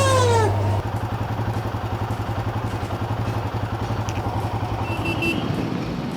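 A Royal Enfield Himalayan 450 motorcycle engine drones steadily and loudly up close while riding, with a clattering, pulsing low rumble and wind noise throughout.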